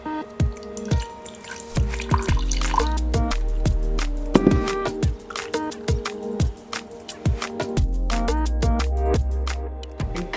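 Coffee being made and poured at home, with a string of close, distinct liquid drips and splashes, light clinks and a steadier pour toward the end, with no talking.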